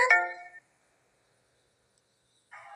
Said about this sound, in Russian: Мне звонит Спидерман?